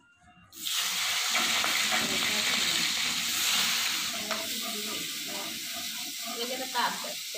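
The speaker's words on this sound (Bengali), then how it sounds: "চিংড়ি মাছ ভাজা হয়ে গেছে না?" Prawns sizzling and frying in a hot pan with chilli and cumin, a steady broadband hiss starting abruptly and continuing throughout, with faint voices talking beneath it.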